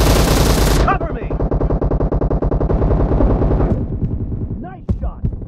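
M762 rifle fire in PUBG Mobile team deathmatch, a loud close rapid burst of automatic shots in a fast steady rhythm lasting several seconds, then a few scattered clicks and a brief sound after it.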